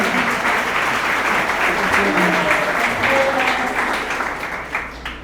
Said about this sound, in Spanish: Un aplauso, 72 escuelas.